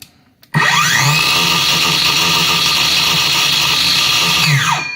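A Heimerdinger LB293 cordless circular saw switches on and runs at no load with a loud, steady high-pitched whine, spinning up sharply after a brief quiet start and holding constant speed until it begins to wind down.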